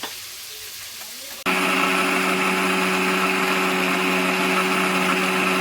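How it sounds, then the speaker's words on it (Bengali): An electric mixer grinder starts up abruptly and runs with a steady, loud whirring drone while grinding homemade spice paste with a little water. "সামান্য একটু মশলা জল দিয়ে মশলাটা আমি মিক্সারে করে নেব"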